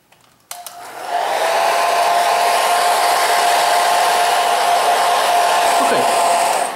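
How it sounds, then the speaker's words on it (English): A hair dryer is switched on with a click and then blows steadily at close range with a loud, even whine and rush of air, used to speed the drying of touch-up paint. "I'm going to use a hairdryer and just blow on it here for a minute or so"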